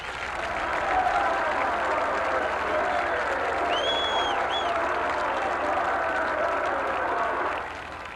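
Big crowd at Bloomington Stadium during a 1984 high school football game between Jefferson and Kennedy cheers and applauds in a steady, dense roar. It holds at full strength for about seven seconds, then begins to fade.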